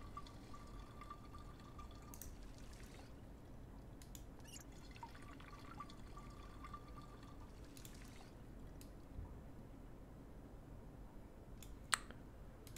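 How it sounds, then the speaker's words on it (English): Empty bottles are filled with water in a video game, a faint, steady trickle with scattered soft drips and clicks running on for several seconds, with no speech. "Fill our empty bottles."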